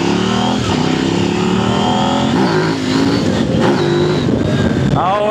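A Kove 800 motorcycle rumbles on the road during an organized group ride, its engine note steady and close with shifting pitch as it pulls and engine-brakes, loud and continuous with no talk.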